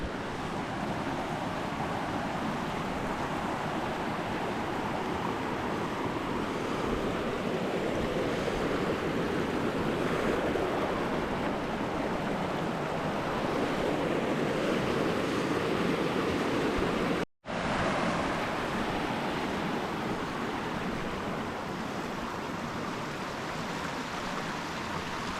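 A river in a dense Chilean forest on the Villarrica traverse rushes steadily and loudly, a broad continuous wash of flowing water close by, broken only by a brief dropout near the end.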